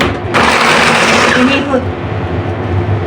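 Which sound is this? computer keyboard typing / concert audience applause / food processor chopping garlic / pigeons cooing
food processor chopping garlic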